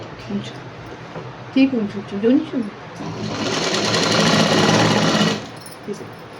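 A sewing machine runs in one sustained burst of about two and a half seconds, stitching fabric for a coat-style dress, with someone speaking just before it starts.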